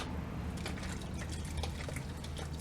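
In a tub of water mixed with baking soda, liquid sloshes and trickles with scattered drips and splashes, fairly soft and continuous with no talking.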